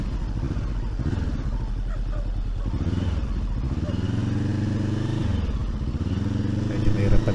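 A motorcycle rides down a descending road between Tagaytay and Laurel, Batangas, its engine a steady, close drone with some rattle and clatter, heard under ongoing talk from the rider.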